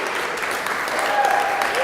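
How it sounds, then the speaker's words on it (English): Studio audience at a live talk show gives steady, fairly loud applause, a continuous wash of clapping with a faint voice briefly audible within it. "First time, yes, you may applaud."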